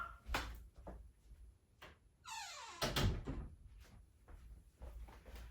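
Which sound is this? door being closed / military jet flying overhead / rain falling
door being closed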